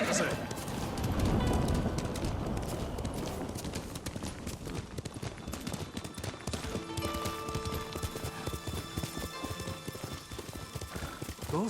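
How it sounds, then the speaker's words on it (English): Rapid hoofbeats of a galloping horse in the video game Ghost of Tsushima pound steadily throughout, with a whinny near the start and a voice speaking over the rhythmic clatter. "Good horse. Faster, Kaze."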